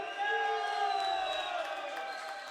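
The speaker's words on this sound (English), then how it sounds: "the crowd seem to enjoy that" Crowd cheering and whooping at the Algarve 7s rugby sevens open final, a sustained roar with shouting voices that swells early and holds at a steady level.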